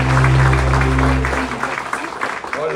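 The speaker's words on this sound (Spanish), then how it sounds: "¡Un aplauso!" Applause from a church congregation swells after a steady hum fades, a moderate wash of clapping with voices mixed in.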